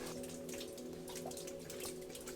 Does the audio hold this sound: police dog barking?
no